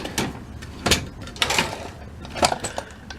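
A gray toolbox drawer is pulled open in a few short scraping slides and clunks, close and fairly quiet, with small rattles of loose tools and parts inside.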